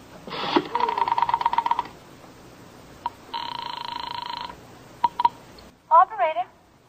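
A telephone is dialed in a radio drama: a rapid run of bright push-button tones, a pause, then another long tone burst and a few single beeps, ending with a short spoken voice.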